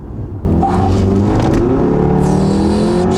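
A tuned 414 bhp MK7.5 Golf R engine snarls into a loud, sustained rev after a brief quieter moment, the raspy exhaust note climbing steadily and close by.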